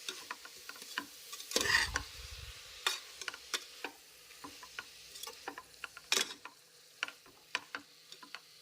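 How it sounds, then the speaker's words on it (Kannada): Mutton keema mixed with yogurt being stirred and fried in oil, with scattered scraping clicks of a spoon against the pan over a faint sizzle, plus one louder, longer burst of frying noise. "ಎಣ್ಣೆಯಲ್ಲೇ ಇದನ್ನು ಫ್ರೈ ಮಾಡ್ಕೋಬೇಕು."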